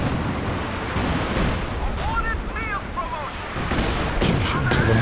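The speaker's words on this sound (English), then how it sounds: "There goes the Roketten again. Good heavy mortar shell." Heavy mortar shells firing in Company of Heroes 2, a dense rumble of distant artillery thumps and battlefield noise running throughout, with brief whistling tones in the middle and a sharper burst near the end.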